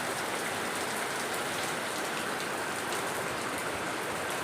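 Heavy rain falls steadily outdoors while rainwater is collected in a big bucket, a dense, even hiss of drops with no pauses or voices.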